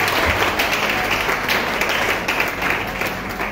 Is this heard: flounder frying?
no